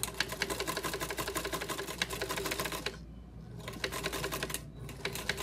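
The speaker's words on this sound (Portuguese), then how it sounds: "nós vamos vir fazendo essa costura toda aqui por toda a volta" A sewing machine stitches around a fabric face mask, its fast steady needle rattle running close and continuous, pausing briefly twice before starting again.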